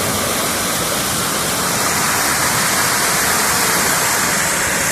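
Cascada del Duende waterfall near Puerto Almanza, Ushuaia, roars as a steady, loud broadband rush of falling water, with no break across the whole stretch.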